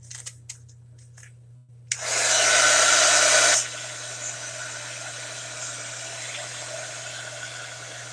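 A hair dryer used for drying: a few soft clicks, then a loud steady blowing whoosh for about two seconds that drops to a quieter, continuous airflow hum for the rest, with a low electrical hum underneath.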